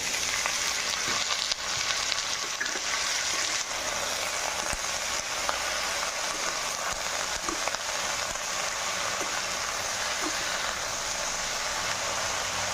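Ridge gourd and potatoes frying with browned onion in a pan, a steady hissing sizzle throughout with faint occasional clinks of stirring.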